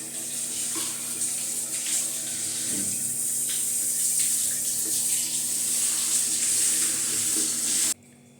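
Tap water runs steadily into a basin during hair washing at home, a continuous close hiss and splash that cuts off abruptly near the end.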